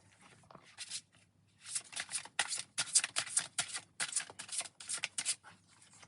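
Oracle cards are shuffled in a series of quick, papery riffling bursts, close and fairly soft, with short pauses between passes.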